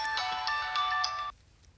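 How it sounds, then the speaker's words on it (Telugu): An incoming-call phone ringtone plays a steady, bright electronic melody for over a second, then cuts off abruptly into a quiet room. "నాకు రీసెంట్గా ఒక ఫోన్ కాల్ వచ్చింది"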